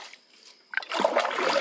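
A short canoe paddle splashes and sloshes through a very shallow creek section, a quiet lead-in followed by a close, continuous burst of splashing water.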